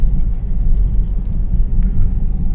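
Peugeot 407 SW 1.6 HDI diesel estate picking up speed on the road, heard from inside as a steady low engine and road rumble that swells slightly, with no voices.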